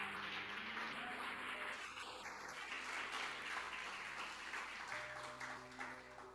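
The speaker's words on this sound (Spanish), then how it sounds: "dale un fuerte aplauso al Señor" A church congregation claps together in strong, sustained applause during a worship festival service, with organ or keyboard tones sounding underneath and brief musical notes near the start.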